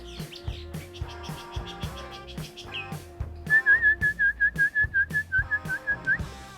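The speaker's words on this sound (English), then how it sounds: "Just chatting with the birds." Whistled bird-like calls ring out near a backyard misting pole, a rapid series of about a dozen bright, evenly spaced chirping notes over intermittent clicks and low rumbling.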